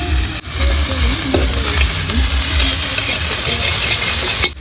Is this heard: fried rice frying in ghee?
yes